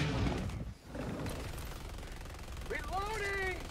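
Minigun fire in a video game, a brief loud burst of rapid automatic shots mixed with game noise, followed by a voice speaking.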